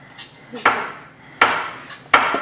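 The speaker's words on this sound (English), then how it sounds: "My mom's cutting the mushrooms right behind me, slicing" A knife slicing mushrooms on a cutting board in a home kitchen: three sharp knocks against the board with short scraping slices between them, close by and fairly clear, with no talk.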